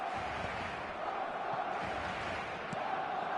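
Crowd in a football video game roaring and cheering as a steady, fairly faint wash of noise that holds through the whole short stretch with no clear peaks.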